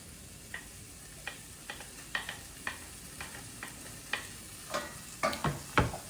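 Garlic cooking in a pan for vegan green beans Provencal, a soft steady sizzle broken by repeated light scrapes and taps of stirring that grow louder and busier toward the end.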